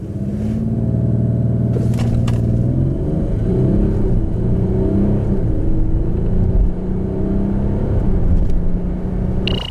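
A 2018 Range Rover Sport SDV6 diesel SUV accelerates hard, its engine a loud, steady drone heard from the cabin. The rising tone shifts through gears, with light clatter and road rumble underneath. No voices.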